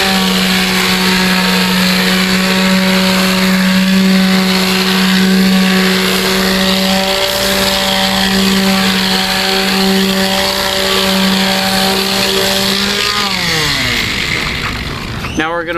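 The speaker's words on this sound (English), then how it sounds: "We're just using the 220 grit sandpaper just to give it a smooth finish" A steady, loud electric motor hum runs throughout as a surface is sanded with 220 grit sandpaper for a DIY stuffed animal play center, then the pitch drops as the tool spins down at the end.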